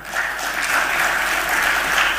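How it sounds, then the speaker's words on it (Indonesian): Audience applause fills a hall at the 2025 PSSI football association congress in Indonesia, a dense, steady wash of clapping that stays loud and even throughout. "Tepuk tangan buat kita."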